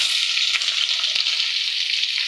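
Onions with curry leaves fry in oil, a loud, even, close sizzle with a couple of faint taps, no talking.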